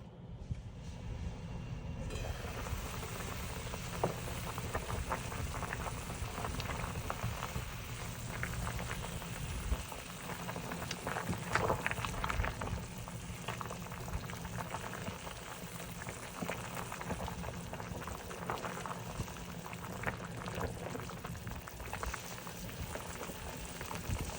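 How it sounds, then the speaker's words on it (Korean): Pork and radish soup boiling in a pot with the lid closed, a steady rumbling bubble with faint rattles and clicks throughout, continuous and moderately quiet, no talk. "뚜껑을 닫고 5분간 끓여주세요."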